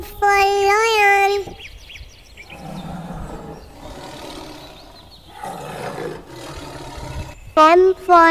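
A lion roars in a long, rough, sustained bellow within a children's phonics nursery song. Bursts of sung, tonal voice come just before and after it.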